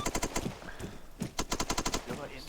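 Rapid bursts of automatic gunfire crackle in the military video game Arma 3, two quick strings of shots separated by a short pause, fairly faint and distant over a low background.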